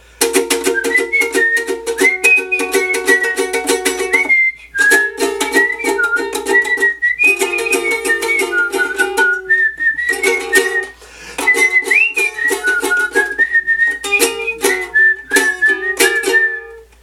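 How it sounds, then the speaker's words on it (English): A bright whistled melody, the whistling part of a song, carries on for a long stretch in continuous phrases with a couple of brief breaths, loud and close with no other sounds. "And then it goes into the little whistling part."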